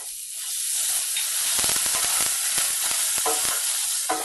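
Ginger paste hits hot oil already seasoned with a whole dried chili and asafoetida, bursting into a loud, crackling sizzle that swells and then keeps spitting in sharp pops while it is stirred, with no talk.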